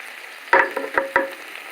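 Sliced kielbasa frying in a pan with onion and carrots, a soft sizzle broken by a few sharp scrapes and clacks as a utensil stirs it, fairly quiet and without speech.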